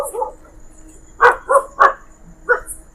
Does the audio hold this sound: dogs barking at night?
yes